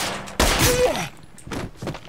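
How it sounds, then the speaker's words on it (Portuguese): Gunfire in the video game State of Decay 2 erupts as a loud, dense burst of shots lasting about half a second, followed by quieter thuds and brief talk. "Tiroteio, galera"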